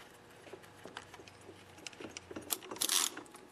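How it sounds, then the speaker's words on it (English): Quiet metallic clicks and small rattles as two metal studs are fitted into a Husqvarna 136 chainsaw carburetor during a rebuild, closer and busier toward the end. "And I'll put in the two studs."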